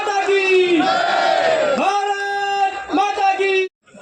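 A large crowd at a BJP workers' political rally shouting a loud, sustained chant response in unison, with several long roaring voiced calls rising and falling before cutting off abruptly.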